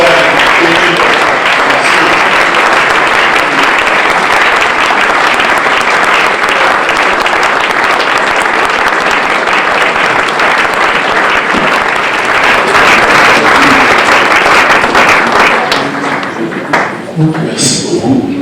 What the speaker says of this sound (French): je voudrais vous demander s'il vous plaît, avec joie, acclamation, d'accueillir maintenant le pasteur Émile.